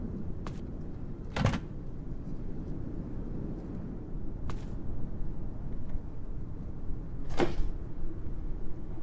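A wooden drawer in The Dark Eye: Chains of Satinav is handled, giving a few short, sharp knocks and scrapes spaced apart over a quiet, low ambient background.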